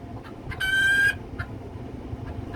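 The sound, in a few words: hen clucking an alert in a chicken coop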